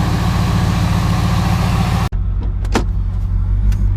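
A Ford Lightning pickup truck engine idles with a loud, steady low rumble, then cuts off abruptly midway, leaving only a faint mechanical hum and a few small clicks.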